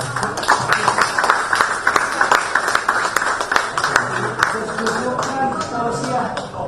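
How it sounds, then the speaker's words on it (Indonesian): An audience applauds together in a hall after thanks at a gathering on the revision of the TNI law, steady clapping mixed with scattered taps and nearby voices, lasting several seconds at moderate loudness. "mari kita tepuk tangan semua"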